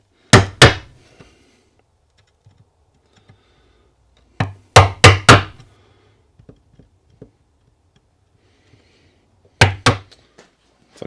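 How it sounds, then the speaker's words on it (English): A mallet strikes a chisel to square a routed slot corner in wood, landing sharp, close, woody knocks in three quick bursts of two to four blows, separated by quiet gaps with faint scraping. "I'm going to use my mallet and chisel to square up the back corner here"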